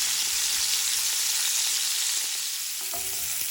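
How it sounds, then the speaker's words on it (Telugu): Bitter gourd pieces fry in a pan for an onion-chili stir-fry, giving a steady, close hiss of sizzling oil with light stirring clicks near the end. "వీటిని ఇప్పుడు వేయించుకుందాం."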